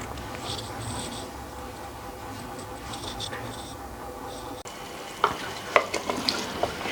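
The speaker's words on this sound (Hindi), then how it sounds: "बुनाई करेंगे ताकि तमाम फ्लेवर आलू के अंदर शामिल हो जाए।" Potatoes with green chillies fry in spice masala, giving a steady low sizzle while a spoon stirs and scrapes the pan, ending in several sharper clinks and taps close by.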